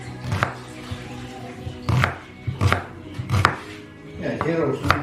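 Fresh coconut being grated by hand on a manual grater, a run of sharp scraping strokes with short pauses between them, close and fairly loud, with no talk over it.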